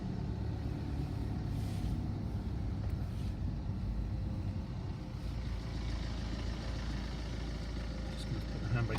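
A car pulling away slowly, its engine a low steady rumble at close range with a driver talking over it throughout.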